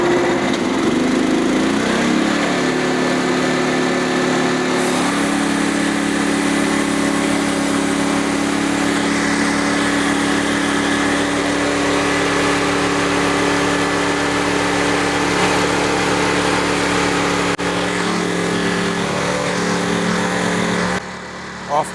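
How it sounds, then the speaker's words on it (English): The engine of a Frontier sawmill runs warmed up at a steady idle, a loud continuous buzzing drone with a slight shift in pitch early on before it cuts off near the end. "The mill's warmed up, so hopefully we can get this going."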